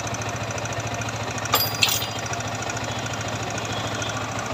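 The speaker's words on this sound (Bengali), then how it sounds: "বাইকটা হচ্ছে R15 ভার্সন 3 ইন্দো। তো বাইকটার সাউন্ড দেখেন" A Yamaha R15 version 3 Indonesian-model motorcycle engine idles steadily up close, a continuous low throbbing hum with a couple of brief sharp blips partway through.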